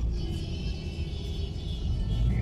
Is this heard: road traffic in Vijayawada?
yes